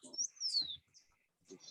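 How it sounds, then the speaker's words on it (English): Mountain thrush calls in a misty highland hotel garden in Costa Rica, a few clear whistled notes in two short bursts with a pause between them, faint and at a distance. "that's a mountain thrush."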